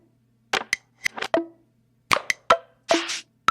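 A sparse percussion loop sample for a boom bap beat: dry, punchy knocks and clicks in a syncopated pattern, each hit short and close, ending with a longer snappy burst.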